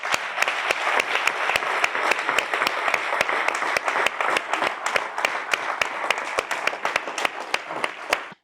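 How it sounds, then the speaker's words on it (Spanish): Dense, steady applause from an audience at a Spanish-language coaching talk, sustained clapping at even loudness for several seconds before stopping abruptly. "me gustaría que le diéramos un fuerte aplauso"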